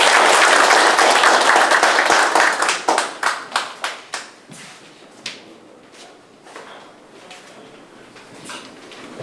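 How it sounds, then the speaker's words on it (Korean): Audience clapping at a Korean veterans' welfare group's endorsement rally as a leader is welcomed to the stage, starting as dense full applause, then thinning into scattered separate claps that fade out. "큰 박수로 모시겠습니다."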